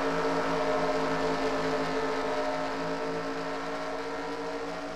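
Field of race cars in a Nationwide Series racing video game rolling to the green flag at Michigan, a dense, steady roar of many engines droning loud and continuous with no voices.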